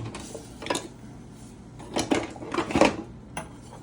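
Dry uncooked oats tipped from a cup into a pot, giving a few brief scattered rattles and clinks of grains and utensil against the pot, close by and moderately loud.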